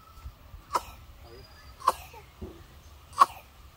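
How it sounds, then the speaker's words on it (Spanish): A toddler coughs three times in short sharp bursts spaced about a second apart, close to the microphone in a quiet room. "Y todavía está tosiendo."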